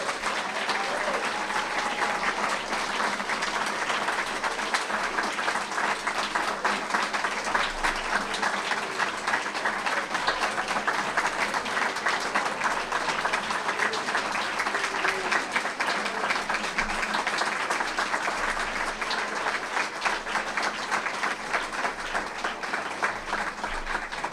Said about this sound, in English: Let's have one more round of applause for the AV Club for all their work.